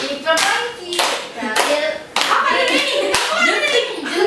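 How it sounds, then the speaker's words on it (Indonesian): Children in a classroom perform a rhythmic concentration clapping game, sharp group claps landing in a patterned beat with short gaps between, a few young voices mixed in. "Tepuk konsentrasi dimulai"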